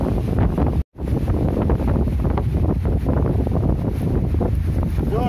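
Loud, continuous wind buffeting a microphone outdoors at Mui Ne, Vietnam, a steady low rumble broken by one brief dropout near the start, with faint sea or boat-like wash beneath.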